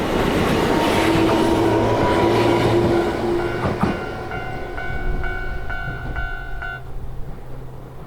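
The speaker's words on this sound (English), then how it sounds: "The Tama train, the cat train, stopping at the station, going the opposite direction" A train on Japan's Kishigawa Railway line rumbles loudly past nearby, a continuous roar of wheels on rails with metallic squeals and tonal whines fading slightly toward the end.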